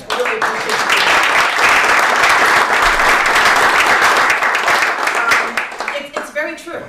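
Sustained audience applause at a superintendent's tea, a dense, steady patter of many clapping hands that fills most of the stretch, then thins and fades toward the end as a few voices emerge.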